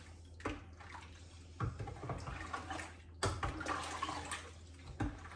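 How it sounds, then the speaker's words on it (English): A sterilised spoon stirs sugar into warm homemade elderflower and honeysuckle wine must, giving quiet swishing and sloshing swirls with a few sharper knocks as the spoon moves through the liquid. No one speaks. "I'm going to give this a good stir with a pre-sterilised spoon"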